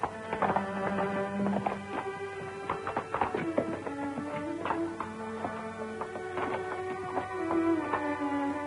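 Several horses trot down a trail, their hooves clip-clopping steadily and fairly close throughout. Background music and sustained tones sit beneath the hoofbeats, with no talk over them.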